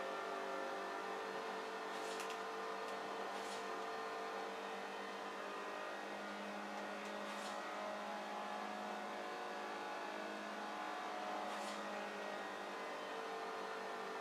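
A car engine in Forza Horizon 4 holding a steady, strained drone while climbing a hill, a sustained tonal hum with no gear changes, faint and continuous throughout.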